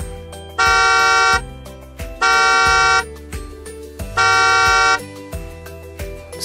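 A car horn blares three times in even succession, each honk loud and sustained for most of a second, over an upbeat children's nursery song with steady rhythmic accompaniment.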